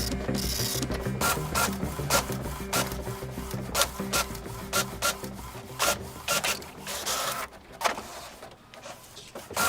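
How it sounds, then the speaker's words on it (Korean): An office printer working in a quiet office, giving repeated rhythmic mechanical feeding and rubbing strokes, close and fairly loud, with no talk. "프린터"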